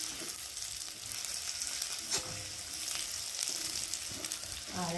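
Prawns frying with onion and garlic in a pan for a jute-leaf curry, a steady close sizzle with scraping stirs throughout and no talking.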